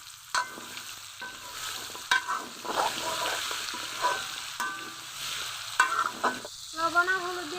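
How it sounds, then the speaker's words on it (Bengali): Pumpkin pieces frying in hot oil with panch phoron and a bay leaf, a steady sizzle broken by repeated scraping stirs of a spatula against the pan, fairly close, with no talking. "তেল গরম হয়ে গেছে, তেলের মধ্যে দিয়ে দিব সামান্য পাঁচফোড়ন, একটা তেজপাতা। কুমড়াগুলো দিয়ে দিব।"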